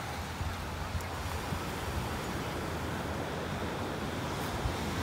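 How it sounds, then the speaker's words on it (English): Ocean waves break on a beach in a continuous broad wash of surf, with wind buffeting the microphone steadily and no distinct individual breakers standing out. "And waves are getting bigger."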